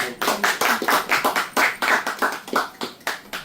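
Hands clapping in a church gathering, a steady run of sharp, close claps from a small group, fairly loud and even in rhythm, with no talk over it.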